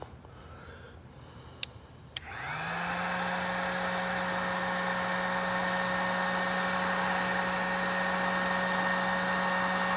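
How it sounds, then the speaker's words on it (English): A cheap little heat gun on its low setting clicks on after a couple of faint ticks and then runs alone as a steady, close whirring blower hum with a fixed tone. "So I got my heat gun. It's just a little cheapy."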